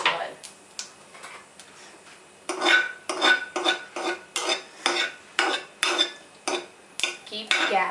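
Mustard-type seeds crackling and popping in hot vegetable oil in a pan for poha upma, a series of sharp, irregular pops and spits, close and fairly loud, with a low sizzle between bursts.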